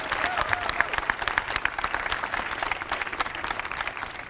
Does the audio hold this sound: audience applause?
yes